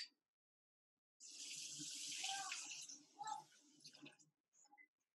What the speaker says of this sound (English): So I'm going to put cold water,